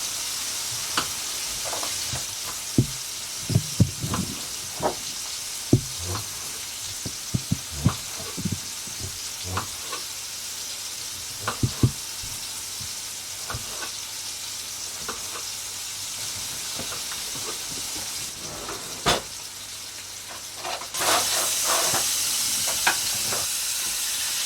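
Honey-glazed pork chops sizzle in a frying pan as sauce is poured in, a steady close hiss broken by scattered clinks and scrapes of stirring, with the sizzle flaring louder near the end.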